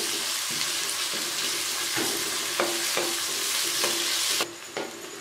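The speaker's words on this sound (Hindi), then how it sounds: "इसको हम थोड़ा सा ब्राउन होने देंगे" Sliced large onion browning in a pan for chicken biryani with yogurt, giving a loud, constant sizzle broken by regular scraping strokes of a stirring spoon, ending with a brief quieter moment.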